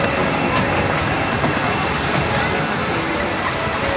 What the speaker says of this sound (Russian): Сейчас будем ловить, значит, как наш паровозик проходит через тоннель.